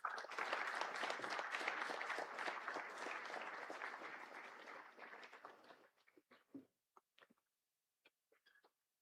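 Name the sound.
audience applause welcoming a minister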